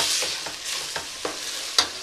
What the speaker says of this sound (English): The meat's getting cooked through.